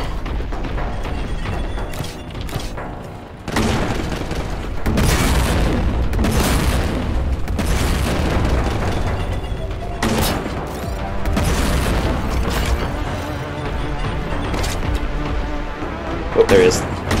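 Heavy explosions and booming weapon fire from the Vengeance launcher in Warhammer 40K Boltgun, loud and continuous with repeated blasts and thuds layered over game music.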